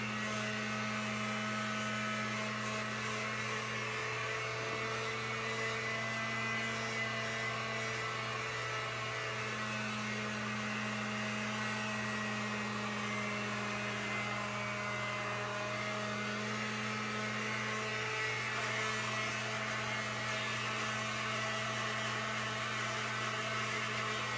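A heat gun drying paint gives a constant electric whirring drone with a steady low hum and blowing air, unchanging for a long stretch, with no voices.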